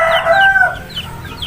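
A KUB chicken rooster crows once loudly and close by, a long drawn-out call in the first second, then trails off into softer farmyard noise with no talk.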